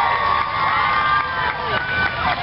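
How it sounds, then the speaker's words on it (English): A large crowd cheers and shouts excitedly as a motorcade with a full security escort and a limousine pulls in, a dense, steady roar of many voices with shrill whoops riding on top. "And the crowd is going crazy."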